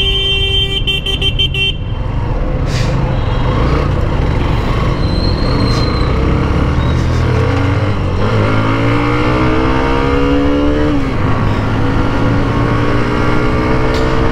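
A Hero Xtreme 125R motorcycle accelerates hard in an informal drag race against an Apache in city traffic, its engine note climbing through the gears under constant loud road and wind noise.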